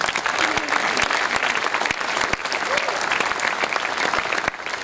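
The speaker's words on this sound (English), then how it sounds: "Can we have a clap for this?" An audience in a school awards ceremony hall bursts into sustained, dense applause, loud and steady across the whole stretch with individual claps standing out near the front.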